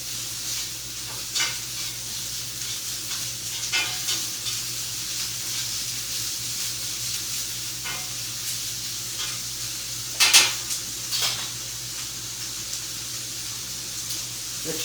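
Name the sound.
onions being stirred and cooking in a pan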